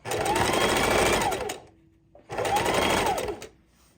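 A sewing machine stitches trim or lace onto a junk journal cover in two steady, loud bursts of rapid needle whir, separated by a short pause with a faint click.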